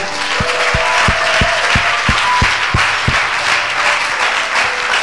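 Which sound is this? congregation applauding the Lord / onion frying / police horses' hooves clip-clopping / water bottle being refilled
congregation applauding the Lord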